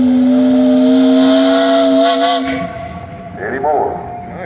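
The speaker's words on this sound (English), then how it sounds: "Hey, Dale, you got a whistle." Steam engine whistle sounding a loud, sustained tone for about two and a half seconds during a steam engine and threshers parade, then cutting off into crowd noise and a brief voice.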